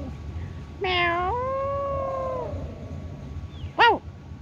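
A cat meows twice: a long, drawn-out wavering meow, then a short, sharp higher one after a pause, close by over quiet background hiss.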